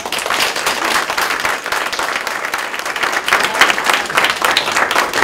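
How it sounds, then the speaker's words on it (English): An audience at a college talk event gives speakers a sustained round of applause, with many hands clapping loudly and evenly throughout and no voices standing out. "could we give our speakers another round of applause?"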